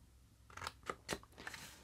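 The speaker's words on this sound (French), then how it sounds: "on vient couper jusqu'au ras du pli" Scissors cut paper along a fold while making a homemade storage column for Distress inks, giving about four crisp, close snips in an uneven rhythm over quiet background.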